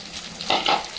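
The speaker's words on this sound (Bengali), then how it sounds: "আর এবারে চিংড়িটা ভাজবো।" Prawns frying in a pan in a home kitchen give a close, steady sizzle with a louder crackling burst midway, heard alone without talk.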